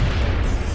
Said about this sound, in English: Heavy cannon.